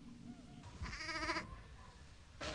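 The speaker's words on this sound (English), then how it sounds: "They're all Swaledale, old Swaledale sheep that are producing these little lambs here." Old Swaledale ewes and their young lambs bleat on a windswept hill farm with moorland, a couple of short wavering calls rising faintly over quiet outdoor background.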